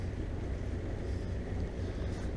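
Steady rumble and wash from twin boat engines during a docking manoeuvre on a delivery passage, a continuous broadband drone with wind noise over it, moderately loud and unbroken.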